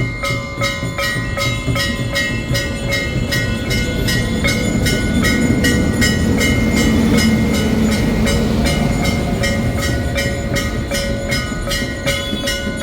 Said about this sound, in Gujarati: જો નીચે ટ્રેન અત્યારે આવી ચૂકી છે